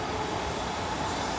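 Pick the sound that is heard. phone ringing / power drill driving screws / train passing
train passing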